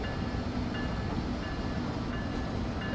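An Amtrak ACS-64 electric locomotive in Train Sim World 4 slows as it comes into Back Bay Station. It makes a steady, close rumble of rolling stock and track noise with a faint tonal whine.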